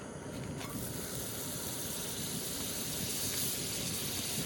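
Half a stick of butter sizzling steadily in a pan while trout cooks outdoors, a dense continuous hiss and crackle at even loudness throughout, with no talking.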